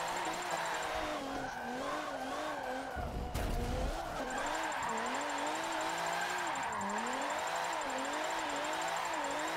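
A car drifting in Forza 7 with its engine revving hard and wavering in pitch, under continuous tire squeal and skidding. There is a brief burst of crackle in the middle.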